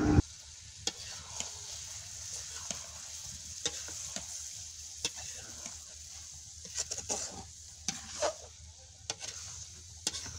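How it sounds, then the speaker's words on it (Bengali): Rice being sautéed in a pan with spices, whole green chilies and other ingredients, outdoors in a village setting; a quiet continuous sizzle with scattered clicks and scrapes of stirring throughout. "চালগুলা দেওয়া হয়ে গেলে আবারও একইভাবে সবগুলো উপকরণ সুন্দরভাবে কষিয়ে নিব"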